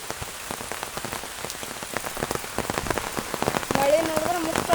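Heavy rain pouring down in a village, a dense patter of drops striking surfaces nearby, steady and fairly soft, with a faint voice briefly audible near the end.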